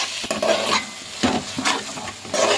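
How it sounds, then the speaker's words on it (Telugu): Cooked vegetables with ginger are stirred in a pot for veg biryani, giving three or four loud, close scraping strokes of a spoon over a soft sizzle. "అల్లం వేసుకొని చక్కగా కలుపుకుందాం"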